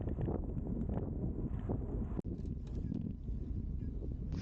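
Steady wind roar buffeting the microphone during a group road bike ride, loud and continuous throughout with a brief dropout midway.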